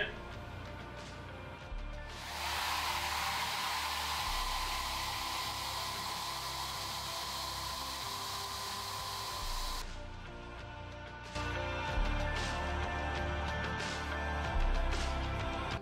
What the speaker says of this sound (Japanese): 次にドライヤーを使って乾かしていきますで、最後に乾かしていきます。